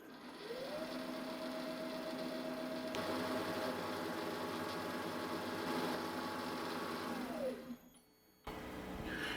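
Rotary broach cutting a 6mm hex into steel on a lathe: a steady machine hum with a rising and falling tonal whine, then a brief drop and a return to running near the end.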